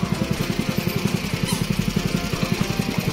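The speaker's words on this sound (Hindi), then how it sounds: "सामने चाचा ने ट्रैक्टर ऑन कर रखा है" A tractor engine runs nearby, a fast, steady low-pitched chugging pulse that stays even and fairly loud throughout, with no talk over it.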